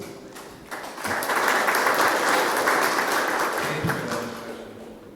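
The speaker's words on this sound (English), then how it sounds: "So please welcome him with applause." Audience applause at a EuroSciPy scientific computing conference in Bilbao welcoming a speaker, starting modestly, swelling to a full steady clapping, then tapering off near the end.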